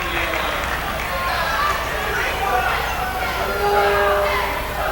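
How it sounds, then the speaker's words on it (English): Basketball arena crowd at a college game, a steady loud roar of many voices filling the space throughout with no distinct breaks. "I mean the crowd is just monstrous in here right now"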